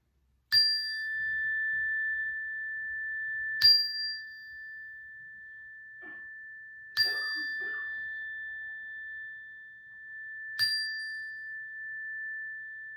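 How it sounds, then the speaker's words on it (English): A single chime is struck four times at even intervals of about three seconds, each bright ring sustaining a steady tone that slowly fades, heard clearly in a quiet church music class. "we're going to listen to my chime for the magical musical number of 4 times"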